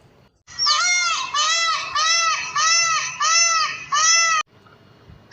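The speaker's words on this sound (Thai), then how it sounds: "เสียงที่คุณได้ยินอยู่เมื่อกี้นะครับคือเสียง นกยุงร้องนะครับเป็นนกยุงที่อาศัยอยู่ตามป่าธรรมชาตินะครับนกยุงสายพันธุ์ไทย" A Thai peacock in natural forest gives a loud, close series of six wailing, nasal calls in rapid succession, each a short rising-and-falling cry, then stops abruptly.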